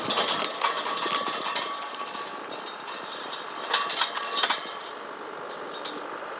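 A Grizzly rock screen runs steadily, screening 3-inch minus rock at about 22.5 cubic yards an hour, its continuous mechanical rumble and rattle broken by occasional louder clatters of stone.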